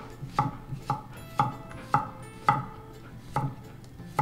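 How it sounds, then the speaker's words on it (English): A knife cuts thin slices of cucumber after the ends are trimmed, each chop landing on a board as a crisp tap. The chops come at an even rhythm, roughly two per second, close to the mic with no voices. "And the cucumber, you're just going to trim the edges and slice very thin."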